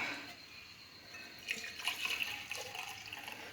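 Herbal immunity drink, steeped with leaves, pours from a pot into a cup, a soft, faint liquid trickle and splash that swells midway, close and quiet, with no voices.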